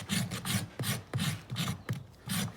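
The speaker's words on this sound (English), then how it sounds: "I score the edges of the foot with my rasp." Farrier's rasp scoring the edges of a horse's hoof before gluing on a shoe, about six rhythmic rough scraping strokes, close and alone.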